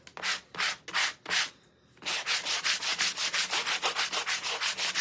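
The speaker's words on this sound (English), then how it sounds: "Now, this is a brand new sanding block." Rhythmic scratchy strokes of a brand new Dollar Tree sanding block rubbing back and forth over a surface, close and loud, with a brief pause before the strokes resume faster and more even.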